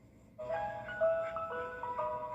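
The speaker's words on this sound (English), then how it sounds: "he hears that ice cream truck jingle" An ice cream truck plays its tinkling melodic jingle, clear tonal notes rising and stepping through a short tune at moderate distance over faint background noise, with no voices.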